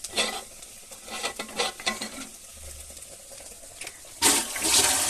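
Banana stem fries in a pan with dried red chilies and mustard, giving a faint sizzle with intermittent stirring scrapes, then a louder burst of hissing near the end.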